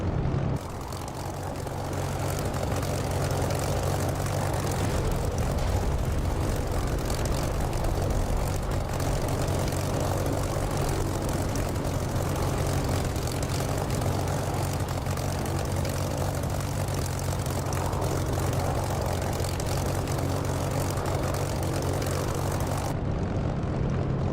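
Steady, loud propeller aircraft engine drone in the DCS flight simulator game, a continuous low throbbing hum with airy roar holding unchanged for the whole stretch, with no voices over it.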